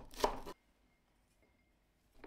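A knife chops spring onions on a board in two short bursts of close, crisp rapid cuts with a near-silent gap between them.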